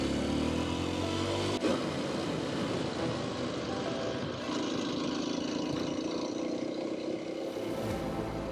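Kawasaki KLX230 dirt bike with an older carbureted engine, a steady engine drone close up that holds level for the whole stretch, with a brief shift in tone early on and no talk.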